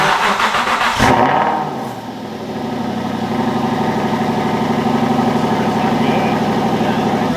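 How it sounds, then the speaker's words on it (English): An Aston Martin V8 cranks and fires with a sharp burst, then settles into a steady, throbbing idle heard close up, with people talking briefly nearby. "actually first time hearing the V8"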